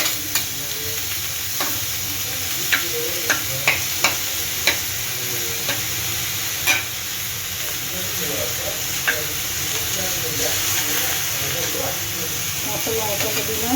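Tomatoes and spices sautéing in a pan after roasted peanuts, a steady close sizzle with scattered spatula clicks and scrapes running throughout.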